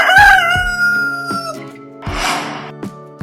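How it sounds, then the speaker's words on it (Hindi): A rooster crows loudly and close, one full drawn-out call with a few clucks around it. "rooster"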